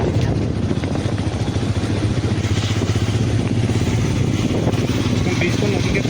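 Motorbike ridden along a hill road near the Assam–Arunachal border, steady engine drone and wind rumble continuous and close throughout, with faint speech-like noise mixed in.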